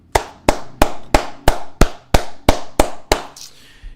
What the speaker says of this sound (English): Everybody give a round of applause to Pharrell Rammy.